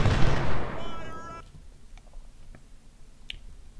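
A burst of Civil War-era gunfire in the video game Ultimate General: Civil War hits loud and rough at the start, then dies away within about a second to a quiet background with a few small clicks.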